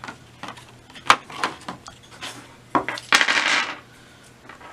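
Clear plastic dice from a Back to the Future game rattle and clatter on a hard surface, with several sharp clicks and short bursts of tumbling at close range and no voices.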